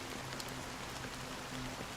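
Steady rain falls in Honkai: Star Rail, a soft, even hiss of drops on a surface that runs unbroken throughout, with no voices and no other sounds over it.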